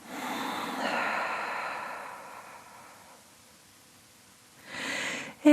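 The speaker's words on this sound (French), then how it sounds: "on ouvre la bouche et on expire profondément" A person breathes out slowly and deeply through an open mouth during a yoga meditation. The long, breathy exhale is close and fades gradually, then a shorter breath follows.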